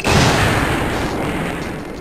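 In the Spider-Man: The Sinister Six video game, a wrecking ball smashes Shocker's seismic barrier device, giving a loud, close crashing boom that opens the clip and decays into a long rumbling, debris-filled tail.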